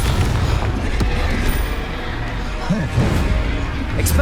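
Confringo explosive spell blasts in the Hogwarts Legacy video game, loud booming impacts amid dense continuous combat noise and game music, with spell names shouted over the action.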